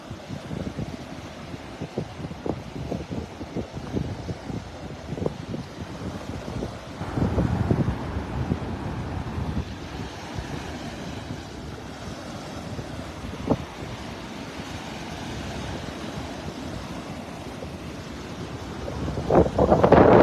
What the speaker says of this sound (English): You're out here with me, getting that wind in your face.